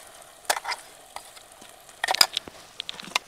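Ground gravy poured into mutton frying in a pan for a ragi mudda mutton curry, giving scattered sizzling crackles with a louder burst of spatter partway through, close by and with no talk.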